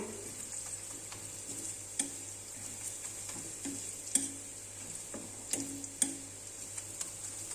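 Onion, chilli, ginger, garlic and cumin fry quietly in a pan for a dried-fish dish, a soft steady sizzle broken by a series of light stirring taps and scrapes.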